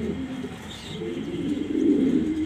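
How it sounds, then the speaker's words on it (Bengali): A pair of silver parrot-shaped pigeons coo in low, rolling calls, close and steady. The cooing grows fuller toward the end, and there is no talking. "দেখতেই পাচ্ছেন মাশাআল্লাহ সেরকম এক পেয়ার সিলভার কবুতর তোতা শেপের"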